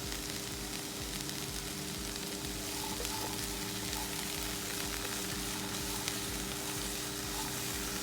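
Steady sizzling of chopped beans and carrot sautéing in butter in a pan, a continuous crackling hiss with faint stirring, close and even throughout.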